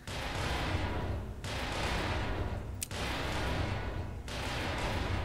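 Grenade blasts in the video game Black Mesa, heavy booming bursts with long rumbling tails, three big detonations in a row about every one and a half seconds, loud and close.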